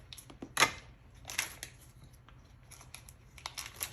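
Scissors snip and crinkle through the plastic wrapper of a Velveeta cheese block in a kitchen, a few quiet, close cuts and rustles spread over several seconds, with no one speaking.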